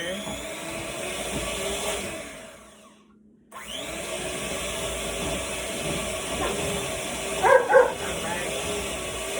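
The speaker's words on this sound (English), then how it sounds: "So I'm going to just use this hand mixer." An electric hand mixer blending cake topping whirs steadily with a high motor whine, briefly cutting out and restarting, while dogs bark a few times nearby.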